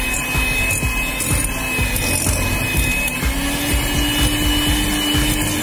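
An electric mixer beats choux pastry dough for fried cream puffs, a steady loud motor whir with a constant hum and rhythmic clattering of the beaters against the bowl, no voices.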